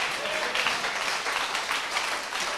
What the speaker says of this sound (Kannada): ಇದಕ್ಕೆ ಚಪ್ಪಾಳೆ ಹೊಡಿಬೇಕು